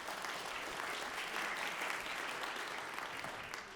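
A concert audience applauds at a band performance, a faint, even wash of many hands clapping heard from a distance and holding steady throughout.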